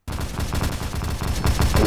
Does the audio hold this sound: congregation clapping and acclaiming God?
no